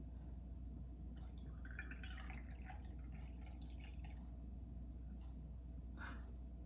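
Water trickling and dripping into a glass on a kitchen scale while measuring 100 grams for a sourdough starter, faint and close with a few brief splashy pours over a steady low hum, no talking.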